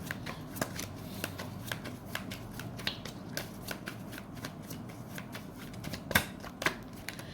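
Tarot cards are shuffled by hand for an advice draw, giving continuous soft riffling and flicking with a couple of sharper snaps near the end, close and quiet, with no talk.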